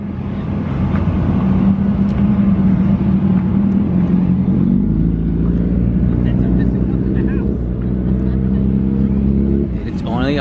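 A turbocharged Honda Civic with a D16Y7 engine on 8 psi, automatic, launches down a quarter-mile drag strip, its engine droning loud and steady from inside the car as revs climb and shift over about ten seconds.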